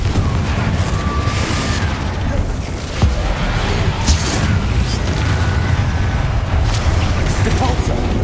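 Booming blasts of the Confringo explosion spell in Hogwarts Legacy, loud repeated detonations and rumbling impacts through a continuous battle din, with a voice shouting spell names between them.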